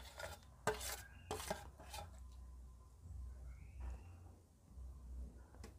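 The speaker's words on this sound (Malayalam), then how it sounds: "ഇനി ഞാൻ ഇതിൻ്റെ മേലെ ബീഫ് ഇട്ട് കൊടുക്കുന്നുണ്ട്, 2-ാമത്തെ ലെയർ. ഇത് ഫുള്ള് ഇങ്ങനെ നമുക്ക് പരത്തി കൊടുക്കാം." Beef being spread as a second layer over rice in a biryani pot, Kerala style: soft scraping and spoon clinks against the metal, with a couple of louder knocks early, steady and close, with no talking.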